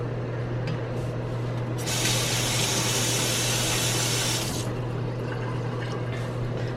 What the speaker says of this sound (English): I'm gonna put some vinegar in this water and I'm gonna let this soak for a little bit